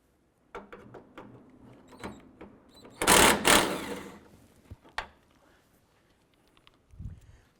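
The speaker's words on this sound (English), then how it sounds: "I'm going to go ahead and remove this 10mm bolt right here." Close ratcheting and small metal clicks come from a wrench removing a 10mm bolt on a 2001-2007 Ford Escape during headlight replacement, with one dense burst of rapid ratchet spinning midway.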